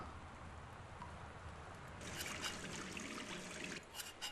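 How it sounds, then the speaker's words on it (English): Video game faucet sound: water runs steadily in a thin, hissing stream, growing fuller and brighter partway through, with no voices. "Faucet noises boring."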